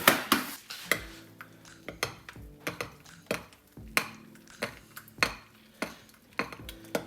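A spoon clinks and scrapes against a bowl while mixing a scoop of protein powder into porridge oats, a series of sharp taps in an irregular rhythm up close.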